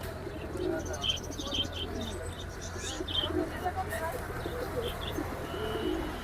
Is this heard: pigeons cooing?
yes